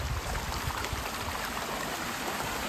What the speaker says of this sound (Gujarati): આ ખળખળ વહેતું પાણી